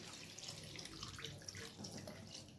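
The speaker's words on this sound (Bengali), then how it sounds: "এরপর আমি এখানে সামান্য পরিমাণে জল দিয়ে দিচ্ছি," Water pours at a low level over raw mangoes in a pan for a sweet-and-spicy mustard chutney, giving a soft, steady splashing trickle that runs for a few seconds with no talking.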